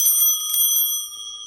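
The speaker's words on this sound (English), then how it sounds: "These bells, these are Catholic bells that they use in the Catholic Church." Small hand-held Catholic church bells, the kind rung at Mass, shaken in a bright steady ringing with sustained high metallic tones and a few stronger pulses, close and loud, fading slightly at the end.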